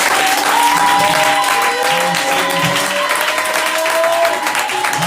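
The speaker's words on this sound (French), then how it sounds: "une offrande de gloire, une offrande d'acclamation sur la terre." A church congregation claps and cheers in praise during a lively worship service, continuous dense applause with voices and singing over it throughout.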